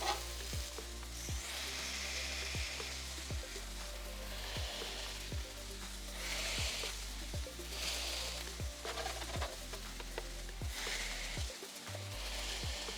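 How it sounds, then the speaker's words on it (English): Koobideh kabob patties sizzle steadily on a 400-degree griddle, a loud continuous fry with no talking. "You're gonna let these patties cook for about 3 minutes. Again, we're at 400 degrees on this griddle."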